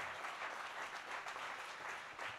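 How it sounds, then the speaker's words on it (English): Steady audience applause at a startup competition pitch event, a continuous wash of clapping from many hands across the room with no speech over it. "I'd like to applaud all the teams that were pitching"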